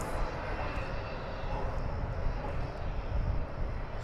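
An airliner arriving at DFW Airport from Longview, Texas rumbles with a broad, steady engine roar that swells slightly, loud and continuous.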